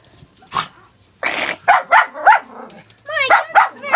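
A playful puppy lets out a rapid run of loud, close barks mixed with low growls during rough play, with people talking nearby.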